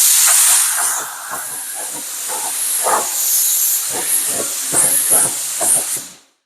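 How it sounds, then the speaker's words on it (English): Loud bursts of a spray gun hissing as it applies clear coat to a paint spray-out sheet, several pulses in quick succession, close to the listener, ending abruptly. "now we're going to put just 2 coats of clear on the spray out sheet"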